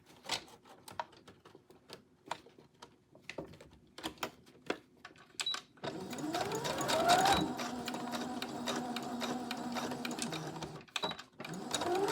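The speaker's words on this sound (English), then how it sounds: "I'm going to sew them in a little triangle, just so I know that it's not going to come apart" A sewing machine stitches a maxi skirt seam in a steady, close, continuous whir that follows several seconds of scattered clicks from handling the fabric.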